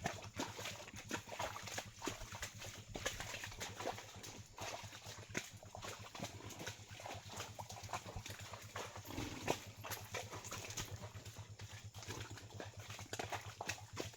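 Horse hooves clip-clop steadily along a deep muddy path during an early-morning ride to work, faint and continuous with a low background hum throughout.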